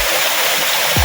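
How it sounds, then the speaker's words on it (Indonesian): Curug Ciangin, a roughly 30-metre waterfall running at low flow, gives a dense, continuous broadband rush of falling water, close and even throughout, with no voices. "air terjun debit airnya terlihat sedang kecil ya guys"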